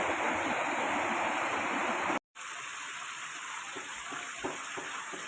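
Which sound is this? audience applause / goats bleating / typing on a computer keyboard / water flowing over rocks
water flowing over rocks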